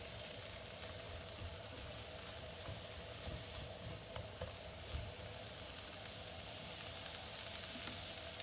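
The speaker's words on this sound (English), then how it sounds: "while the vegetables are just sauteing up a little bit" Vegetables with a squeeze of lime sauteing in a pan for a sweet salsa chicken salad, a soft continuous sizzle with faint crackles and a low steady hiss, no talking.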